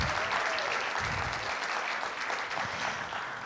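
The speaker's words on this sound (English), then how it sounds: "Please give her a round of applause." Warm applause fills the room at a talk by bestselling author Deborah Goodrich Royce, a dense and fairly loud wash of clapping from a seated audience, steady throughout and slowly easing toward the end, with no speech.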